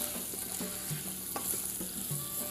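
Thick-chopped pumpkin frying quickly with crushed red chili and salt, a steady close sizzle with periodic soft scrapes of a stirring utensil, no voices.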